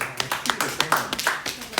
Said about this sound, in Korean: 박수 쳐 박수